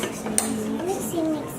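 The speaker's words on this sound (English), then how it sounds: "almost done mixing" Veggie cupcake batter stirred in a bowl, with a spoon clinking against the bowl under a child's chatter. The sharp clinks are brief and come at the start and near the end.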